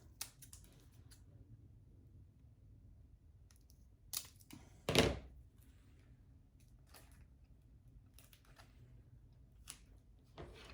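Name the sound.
scissors cutting paper for a fake Christmas cake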